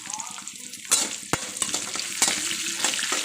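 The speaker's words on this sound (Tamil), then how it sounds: "இப்போ இன்னும் கொஞ்சம் வதக்கணும்." Dried red chillies and spices sautéing in a pan, giving a steady close sizzle broken by a few sharp clicks and scrapes of stirring.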